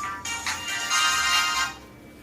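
A telephone rings with a bright electronic ringtone, a steady tonal melody that plays loud and close for about a second and a half, then cuts off.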